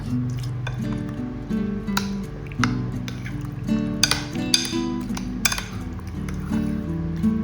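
Beaten egg mixed in a bowl while making crispy honey butter chicken, a rhythmic run of wet clinks and spoon-on-bowl taps over a steady musical backing, with no speech.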